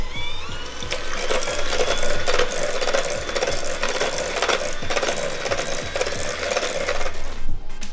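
An electric hand mixer beats matcha white chocolate chip cookie dough in a bowl, giving a steady, close whirring and scraping that runs the whole stretch with small surges and no talking.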